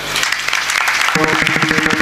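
A crowd at a comedic kirtan performance breaks into steady applause. Musical tones join the clapping partway through.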